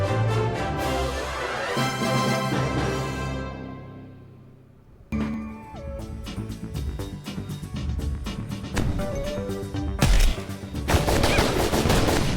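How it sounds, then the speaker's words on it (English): Rapid crackling blasts and collapsing debris in the physics game Blow It Up!, bursts of dense banging that fade out before a new barrage of loud, repeated explosions starts and builds again. "It was just fun to watch it crumble and collapse and explode."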